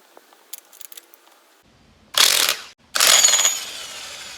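Ratchet wrench fitted with a 6-point socket working on motorcycle clutch spring bolts, giving two loud close bursts of fast ratcheting clicks after some faint light tapping.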